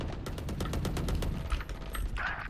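Rapid automatic gunfire from the Valorant tactical shooter game, with bursts of shots ringing out loud and close over a steady mix of game ambience.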